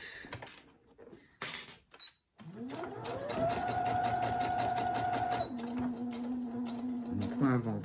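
Sewing machine running steadily through the final seam of a fabric cake bag, a close, continuous mechanical whir of several seconds after a few short clicks and fabric handling sounds.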